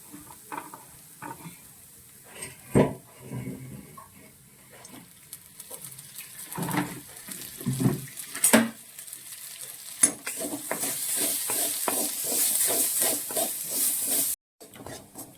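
Grated coconut frying in coconut oil in a pan while being stirred, scraping spatula strokes and clinks over a continuous sizzle that grows louder and denser toward the end.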